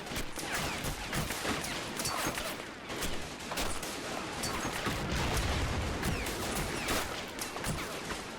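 A World War I winter trench battle in a video game, with French defenders under attack: continuous crackling rifle and machine-gun fire, bullets snapping and thudding nearby, and heavy booms through a dense, chaotic din.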